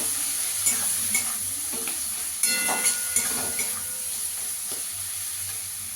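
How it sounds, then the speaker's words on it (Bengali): Ground coriander and cumin masala fries loudly in a pan with a constant hiss, broken by a few scraping stir strokes and clinks, for a spinach and chana dal dish. "মশলাটাকে ভালো করে কষিয়ে নেবো একটু।"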